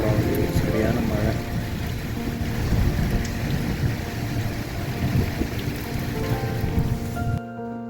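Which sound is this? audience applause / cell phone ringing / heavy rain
heavy rain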